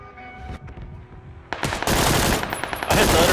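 In PUBG, rapid automatic gunfire erupts after a brief quieter stretch, loud, dense bursts that pause once and then resume hard.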